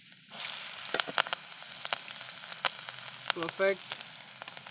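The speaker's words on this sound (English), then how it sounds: "So our oil is perfectly hot now. Let's add the garlic in it. Along with it, let's add the green chili." Garlic and green chili fry in hot oil for butter garlic noodles, giving a soft, steady sizzle with scattered crackles and pops; a voice speaks briefly.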